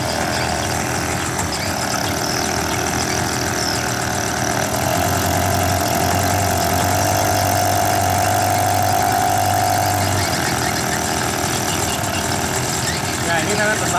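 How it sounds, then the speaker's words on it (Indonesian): A small generator engine runs steadily close by, powering a simple homemade car battery charger, its continuous idling drone carrying a low mechanical vibration throughout. "Saya hidupkan dulu gensetnya."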